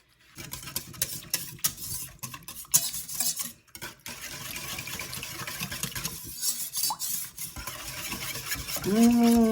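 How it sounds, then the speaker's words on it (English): Whisking a squash mixture with spices and half a teaspoon of salt in a bowl, a steady run of close, busy scraping and clinking strokes, with a few pauses and a brief voice near the end. "Mix all of those flavors in. I think I'll get my whisk"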